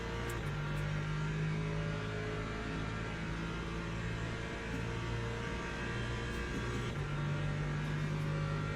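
LMP2 race car in Le Mans Ultimate, a steady engine drone with tonal whine holding level throughout, the pitch shifting slightly as it passes, alone without voices.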